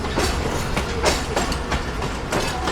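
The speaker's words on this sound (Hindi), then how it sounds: "काफ़ी दिन बाद मेन लाइन पर GU20 जाता हुआ दिखाई दे रहा है।" A GU20 locomotive hauls a train along the main line with a steady, rhythmic clickety-clack of wheels over rail joints and a continuous loud rumble close by.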